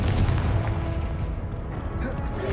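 A Confringo fire spell bursts in Hogwarts Legacy as a loud, booming blast with a rumbling, explosive roar that fades over about two seconds, a voice faintly audible behind it.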